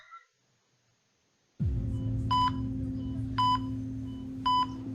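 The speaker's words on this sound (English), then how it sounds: "Beeping." Three evenly spaced electronic beeps sound over a steady low hum, the first coming a moment after the hum switches on abruptly following near silence.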